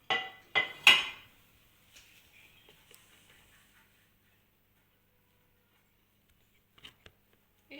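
A sushi mould is flipped over onto a plate, giving three sharp clattering knocks in the first second, then faint taps and near silence with a couple of small clicks at the end.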